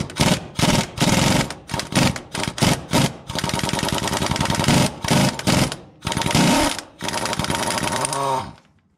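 Impact wrench hammering off a companion nut on a Jeep CJ5 transfer-case yoke, loud and close: a run of short rattling bursts, then longer sustained rattles, with a final spin-down.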